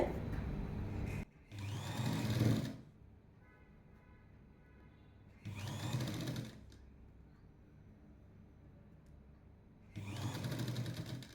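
A sewing machine stitches lining for a jacket in three loud bursts of steady whirring, each a second or two long, with quiet pauses of faint background hum between them.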